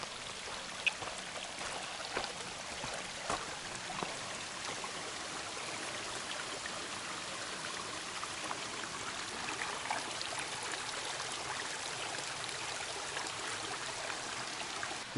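Indian Creek on the Pacific Crest Trail near mile 1147.7 flows and trickles nearby, a soft, steady watery hiss with small splashy ticks and no voices.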